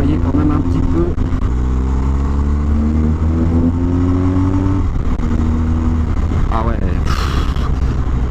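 A BMW R1250GS motorcycle cruising on an open road, its engine droning steadily with a shifting pitch and strong wind rush throughout, close and loud.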